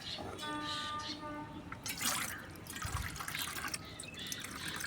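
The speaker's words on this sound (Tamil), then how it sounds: "தண்ணி ஊற்றிக்கிங்க" Water splashes and trickles steadily as it is poured into a mixture for chili plants, with a soft voice speaking faintly over it.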